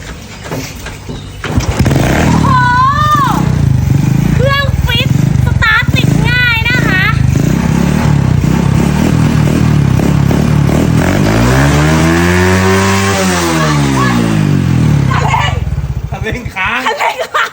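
A Honda Wave 100 motorcycle engine idles loudly nearby and then revs up and back down, its throttle sticking slightly from dust on the throttle cable. People talk and laugh over the steady engine drone.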